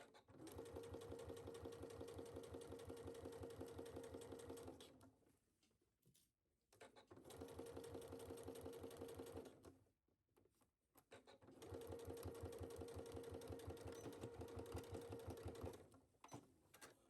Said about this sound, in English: I'm gonna go back to my sewing machine and I'm gonna actually stitch it down